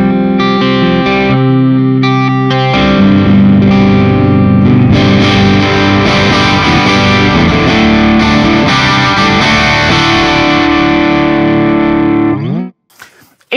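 Distorted electric guitar run through an ENGL Cabloader IR pedal with an amp, with sustained, saturated chords that change several times, loud and up close, then a sharp cutoff with a short noise at the end.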